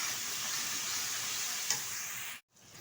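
Potatoes and spices sautéing in a hot pan make a loud, steady, close sizzle, with one small clink near the middle before the sound drops out abruptly and then returns.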